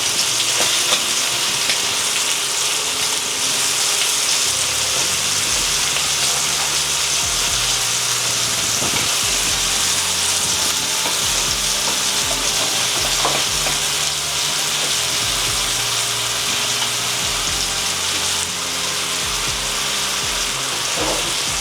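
Fish fries in a small amount of oil in a pan, giving a steady close sizzle broken by scraping and stirring clicks throughout, with no voices.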